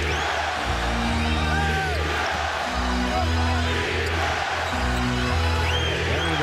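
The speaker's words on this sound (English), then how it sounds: "the crowd on its feet chanting defense" An NBA Finals crowd in a packed arena, Game 6 between the Celtics and Lakers, stands and chants defense in a steady, rhythmic roar that fills the space, with a bouncing basketball and a commentator's voice over it.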